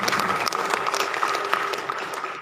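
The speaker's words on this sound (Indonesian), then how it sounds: "Kita berikan aplaus untuk" An audience claps in a continuous burst of applause at the opening of a student community service program at a college in Bogor, dense and fairly loud, tapering slightly at the end.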